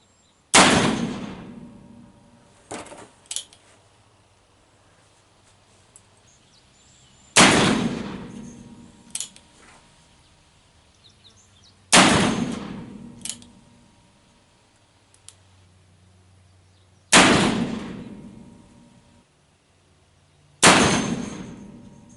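Five loud, sharp shots from an 1858 Pietta Remington black powder revolver loaded with Graf 3F powder ring out at regular intervals, each followed by a brief echo and some fainter clicks of the action between shots.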